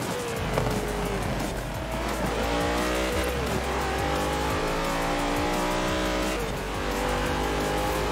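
A Porsche in the racing video game Forza Horizon 4 revs hard and steadily, its engine note rising and falling while tires squeal through a corner, all loud and continuous.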